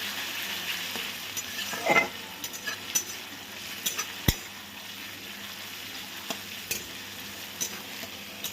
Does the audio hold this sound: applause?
no